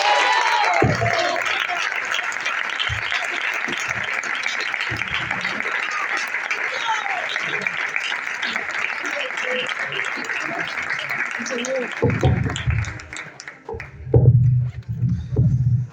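A church congregation at a free youth worship service applauds steadily and loudly for about twelve seconds, a dense crowd of clapping, before it thins out and gives way to a voice and some lower rumbling sounds.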